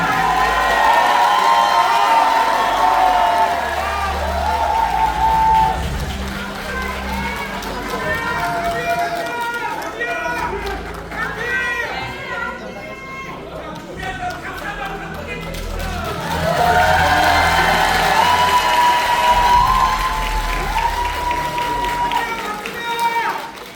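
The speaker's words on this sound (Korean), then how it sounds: "여러분 다시 한번 뜨거운 박수로 환영해 주시기 바랍니다." A crowd at a Korean Democratic Party convention rally in Chungbuk claps and cheers continuously for a candidate, loud and sustained throughout, with an announcer's amplified voice over it.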